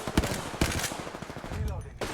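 Video game gunfire in Apex Legends rings out in a few sharp shots and a short rapid burst at close range, with game sounds around it.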